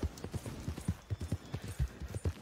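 Horse hooves clip-clop in Red Dead Redemption 2 as a horse is ridden back toward town, a steady rhythm of close, distinct hoofbeats with no voices over them.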